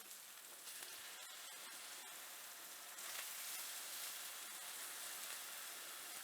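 Tofu frying in a pan of oil until golden brown, a steady close sizzle and crackle that holds throughout and swells slightly louder about halfway, with no talking.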